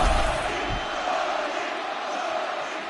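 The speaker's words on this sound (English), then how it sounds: "The crowd on its feet as this next round gets underway" A UFC 6 video game arena crowd on its feet, a dense steady roar of cheering and shouting that holds throughout without a break.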